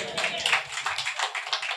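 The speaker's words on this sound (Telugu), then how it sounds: "ప్రైజ్లా చప్పట్లు దేవుని మహిమపరచండి" Congregation applause at a Telugu Christian fasting prayer camp, a dense patter of many hands clapping steadily through the moment, moderately loud and continuous, with a voice speaking over the clapping.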